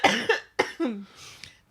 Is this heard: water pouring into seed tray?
no